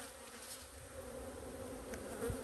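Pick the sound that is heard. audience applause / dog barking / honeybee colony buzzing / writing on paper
honeybee colony buzzing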